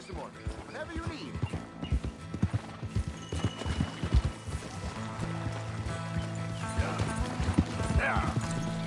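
Horse hooves clip-clop steadily in Red Dead Redemption 2, with an occasional whinny and a faint flowing-water bed, while people talk over the hoofbeats.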